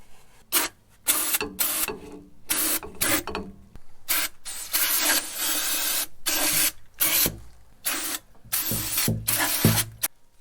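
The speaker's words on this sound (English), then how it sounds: "Now I gotta spray this thing down with brake cleaner" Repeated bursts of brake cleaner spraying from an aerosol can hiss close by during rear differential work, short and irregular, separated by brief pauses and faint mechanical clicks.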